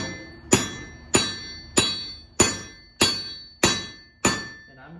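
A hammer strikes hot metal on an anvil at a steady pace, seven sharp ringing blows about every 0.6 seconds, close and loud, each leaving a brief metallic ring.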